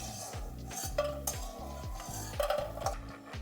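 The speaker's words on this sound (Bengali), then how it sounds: "বড়িগুলো সব সুন্দর লাল লাল করে আমি ভেজে নিয়েছি, এখন আমি তুলে নিচ্ছি।" Fried lentil dumplings (bori) lifted out of a frying pan with a metal utensil, bright clinks and scrapes over a steady sizzle of hot oil, close and alone.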